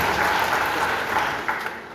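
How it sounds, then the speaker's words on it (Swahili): An audience at a church gathering in Kirinyaga, Kenya, applauds with dense, steady clapping that holds at an even level from start to finish. "Gataga wa Kilimule, mpigeni makofi."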